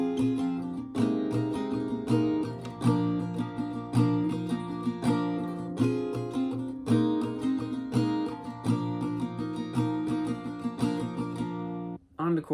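Acoustic guitar plays the full pre-chorus of a song (live version) with steady rhythmic strumming of chords, close and clear, no voice, ending in a brief pause before a final strum.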